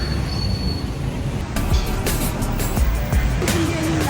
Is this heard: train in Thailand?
yes